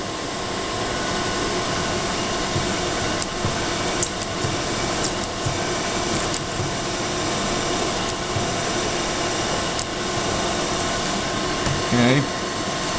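A machine spindle runs steadily in a metal shop during work on a heavy duty steady rest, a loud, constant whirring hum throughout with a brief rising tone near the end and no talking.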